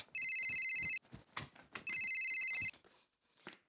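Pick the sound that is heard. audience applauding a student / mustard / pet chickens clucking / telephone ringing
telephone ringing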